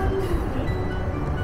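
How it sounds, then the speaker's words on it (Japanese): A Keihan 3000 series double-decker train runs on the Toyama Chitetsu line, a loud, steady rumble of a train in motion with a dense low roar, no talk. "京阪初代3000系ダブルデッカーが富山地鉄で今も健在です。"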